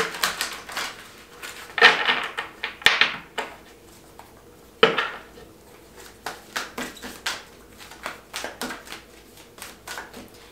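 Tarot cards being shuffled by hand in a quiet room, with irregular bursts of riffling and soft slapping taps that come and go across the span, fairly close and with no talk over them.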